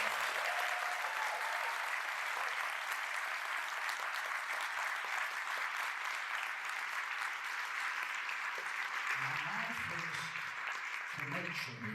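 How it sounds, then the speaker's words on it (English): Steady, dense applause from a large audience fills a keynote hall at a grand final event, sustained at even loudness throughout, with a few faint voices surfacing near the end. "A big round of applause for that."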